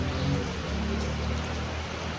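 Steady, dense rainfall hissing continuously, loud and close, with a low rumble underneath and no voices.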